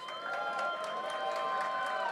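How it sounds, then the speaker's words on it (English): A packed startup-event audience applauds and cheers as a continuous wash of clapping and crowd noise, with a faint tonal hum beneath it. "Give yourselves a round of applause."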